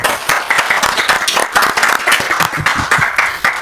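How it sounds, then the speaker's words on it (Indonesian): Steady applause from an audience, many hands clapping together loudly throughout the short stretch. "yuk tepuk tangan dulu buat Kiai Haji Imaduddin Utsman."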